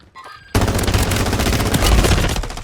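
Rapid gunfire in the Warzone battle royale game, a brief quiet lead-in then a sudden sustained burst of loud automatic shots running continuously to the end.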